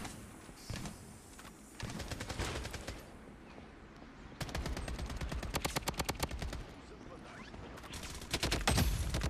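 Gunfire from a shooter video game, triggered by accident. Rapid bursts of automatic fire come in several runs of sharp, evenly spaced shots with short gaps between them, and a little background noise sits under the shooting.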